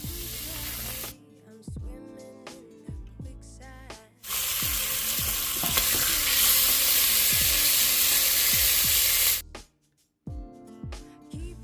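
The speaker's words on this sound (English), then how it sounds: "So I'm going to allow this bacon to cook." Bacon sizzles loudly in a pan for smothered squash, with a dense hiss swelling in the middle. A voice talks over the quieter stretches before and after the loud frying.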